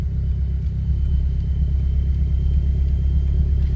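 Diesel car with failed brakes rolling slowly in gear, the engine a steady low rumble and drone throughout, close and unbroken with no voices.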